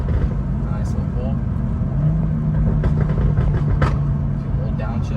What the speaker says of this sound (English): A few little downshifts. Downshift one more time, why not?